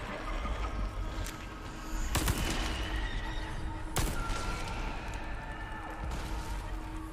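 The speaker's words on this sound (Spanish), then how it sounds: "Pega buenos tiros este arma." Gunshots in the Resident Evil 4 Remake video game, with two sharp loud blasts a couple of seconds apart over steady game ambience.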